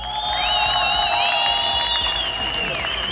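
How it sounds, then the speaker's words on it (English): A large crowd greets a visiting parkour team in Egypt with sustained applause and cheering, a dense wash of clapping and whoops with several high shouts carrying over it, steady and close throughout. "everyone kind of greeted us with this huge applaud"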